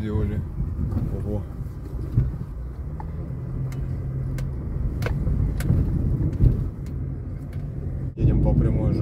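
A car drives along a straight road toward the entrance to Falz-Fein Street, on the route from Henichesk to Askania-Nova, with a steady low engine and tyre rumble throughout and people talking over it.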